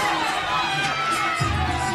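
Members of CrossFit Mayhem cheer on Rich Froning of Cookeville, Tennessee, during the CrossFit Open 15.1 workout. The crowd noise is a dense, steady roar of many voices that swells briefly near the end.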